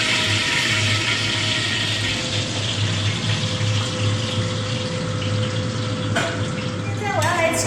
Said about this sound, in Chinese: 我们把它煎的稍微有点香味出来就好了。